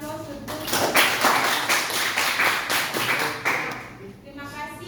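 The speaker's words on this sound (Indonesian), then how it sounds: "Kita berikan aplaus untuk." Classroom audience applause during a history lesson, a steady burst of many hands clapping close and fairly loud for several seconds, tapering off toward the end.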